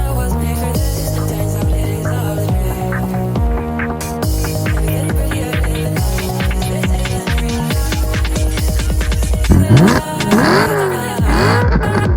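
BMW E92 M3 engine revving in a few rising and falling bursts near the end, loud and close, with steady music playing throughout.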